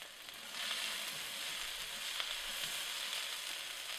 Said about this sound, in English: It means you are sizzling the green onions, giving the flavor.